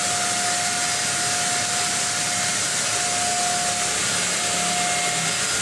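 A Multi Pro paint spraying machine applying black mica paint to a wall gives a steady, continuous hiss with a constant motor drone, unbroken for the whole stretch, with no talking.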